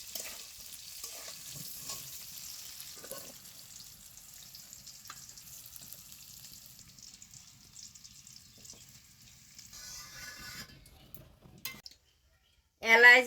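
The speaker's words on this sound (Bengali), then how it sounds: "আমার কপি আলুটা ভাজা হয়ে গেছে" Cauliflower and potato pieces fry in a pan with a steady, soft sizzle running through most of the stretch, broken by light stirring clicks and a brief louder clatter at the very end.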